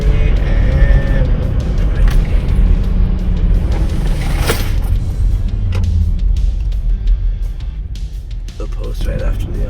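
A Lexus LX 470 Land Cruiser accelerates hard from a standstill toward 60 mph, its engine a steady, loud drone heard from inside the cabin, with a brief thump partway through.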